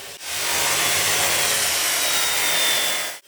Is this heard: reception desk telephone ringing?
no